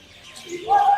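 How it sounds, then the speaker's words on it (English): A single bird in a park lets out a short call, a steady tonal note that rises to loud near the end of the brief moment, heard alone over soft outdoor ambience. "here you can see the couple of birds searching food in this park"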